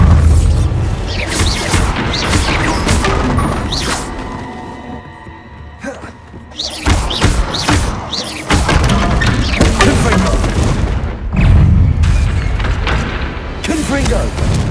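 Bombarda spell explosions burst in the Hogwarts Legacy video game, loud booming blasts and crashing impacts in repeated clusters with a short lull midway, mixed with game music.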